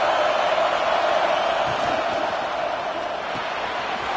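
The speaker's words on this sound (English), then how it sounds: "Listen to this crowd just shaking the girders of this place trying to help their defense" A packed football stadium crowd roars to back the home defense, a loud, sustained wall of cheering and noise that barely lets up from start to finish.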